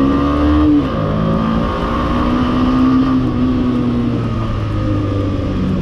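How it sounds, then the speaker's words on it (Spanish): A Suzuki Intruder 150 motorcycle accelerating hard for an overtake, its engine note loud and close, holding a steady droning pitch with a brief drop, then climbing again, over continuous road and wind noise. "esta moto es que tiene fuerza para los rebases"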